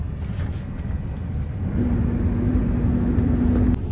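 A MAN TGS 4x4 truck rumbles along a rough, rutted road with low engine drone and road noise, a faint whine rising midway, close and continuous.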